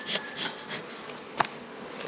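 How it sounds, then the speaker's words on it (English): Honey bees buzzing in an open hive during an inspection, a low, steady droning hum with a few brief nearby wing flurries and a small knock. "There are bees all the way across."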